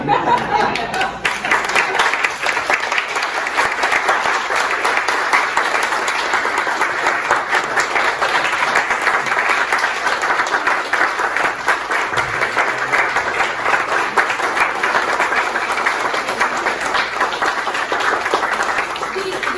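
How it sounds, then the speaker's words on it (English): Steady, loud audience applause fills the room throughout, a dense wash of clapping with a few scattered voices and light chuckles mixed in, sustained without pause. "are applause for people of Ukraine, not for me"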